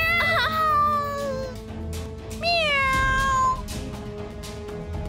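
A human voice imitates a cartoon cat's meow, giving two drawn-out, pitch-bending mews close and clear over a faint musical background, with a short pause between them.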